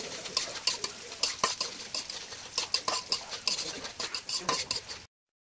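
Onions frying in a pan with whole cinnamon and cardamom are stirred, giving a rapid series of close scraping clicks and taps over a soft sizzle before the sound cuts off.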